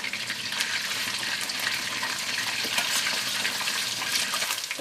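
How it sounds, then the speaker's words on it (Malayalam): Steady, loud sizzling and crackling of chicken pieces frying in hot oil for chicken Manchurian, continuous throughout with dense popping and spitting, no voices. "ചൂടായ എണ്ണയിലേക്ക് ചിക്കൻ ഇട്ടിട്ട് നമുക്ക് വറുത്തെടുക്കാം"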